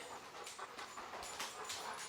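A dog pants steadily and rapidly nearby, a continuous breathy rhythm over a noisy outdoor background.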